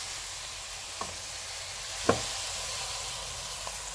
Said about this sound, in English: just give it a quick stir to make sure the stock cube's all gone in, and the garlic and the butter.